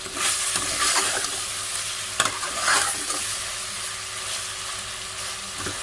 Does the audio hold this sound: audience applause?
no